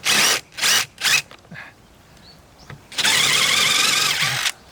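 Power drill boring a deep screw hole into wood in a furniture workshop, three short loud whirring bursts followed by a longer sustained drilling run, with quiet handling noise between.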